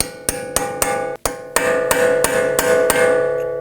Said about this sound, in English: So we're going to use a little chisel tip here to go up underneath, and we need to undo that little rolled edge.